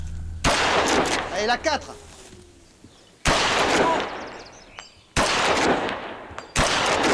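Training shots fired with a service weapon at a French prison shooting range: four loud, sharp, close reports with ringing decay, spaced a few seconds apart, with a man calling commands between them.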